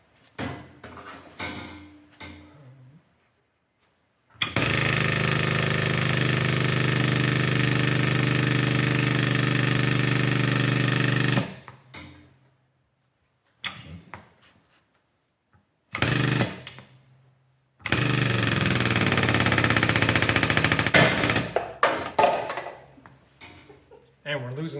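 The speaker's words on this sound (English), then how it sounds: "It's a pretty slick press." A metal press working with dies runs in two long, loud, steady mechanical bursts of several seconds each, separated by quiet pauses, shorter clunks and knocks of handling in between.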